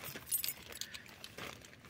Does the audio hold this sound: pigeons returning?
no